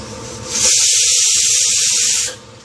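Steam hissing loudly and steadily from a pressure cooker as the pressure is released after cooking, a sustained bright jet lasting under two seconds with quieter background before and after.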